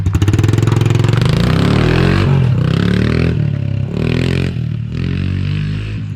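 A Honda CRF110 dirt bike engine with Renthal handlebars revs hard and loud up close, its rough, buzzy roar holding steady and then dipping and surging through several throttle blips.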